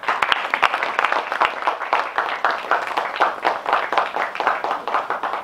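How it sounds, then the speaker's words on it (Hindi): Audience claps at the 2nd Mumbai Independent Film Festival Awards 2022: distinct, sharp hand claps in a lively but uneven patter, fairly close and loud, with no talking over them. "थोड़ी ठंडी है तालियां।"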